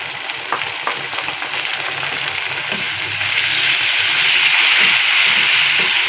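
Two tablespoons of garlic paste sizzle and fry in hot oil for dhaba-style bhindi fry, a steady close crackling hiss that grows slightly louder midway, with occasional stirring scrapes.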